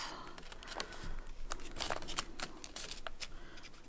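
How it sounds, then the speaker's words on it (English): Origami paper being folded in half for a hummingbird model, with close, soft crinkles and crisp rustling creases coming in scattered bursts across a few seconds, no talking. "And now we're going to fold that in half."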